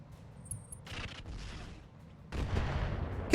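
Weapons fire between mechs in the RogueTech battle game: a sustained rumbling barrage of shots and booms in bursts, fading briefly before a louder volley near the end.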